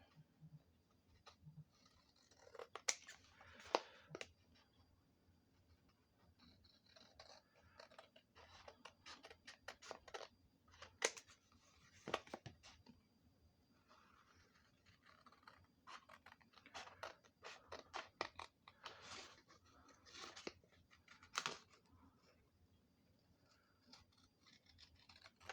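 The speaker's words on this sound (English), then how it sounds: "now I'm just going to cut these out" Scissors snipping out paper journal card pieces, irregular bursts of crisp close cutting and rustling paper separated by quiet pauses, faint overall.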